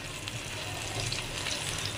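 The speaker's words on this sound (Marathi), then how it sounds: "हे बघा ते व्यवस्थित फ्राय झाले पाहिजे." Okra coated in chutney masala fries in a little oil in a home kitchen, giving a steady, close sizzle with light stirring scrapes throughout and no voices.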